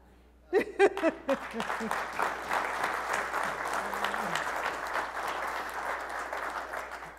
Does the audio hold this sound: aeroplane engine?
no